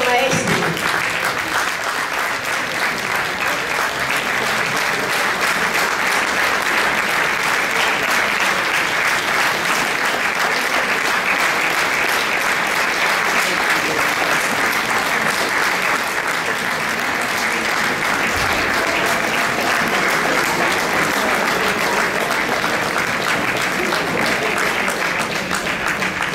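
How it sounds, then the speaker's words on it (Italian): Sustained, loud applause from a concert audience fills the hall before a performance by an orchestral ensemble, steady dense clapping throughout with no talk. "riceveremo stasera con un grande, caloroso applauso."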